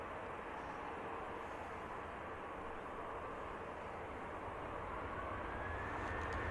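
A Qatar Airways aircraft at Manchester Airport gives off a steady, distant jet roar that holds evenly throughout, with no talk over it.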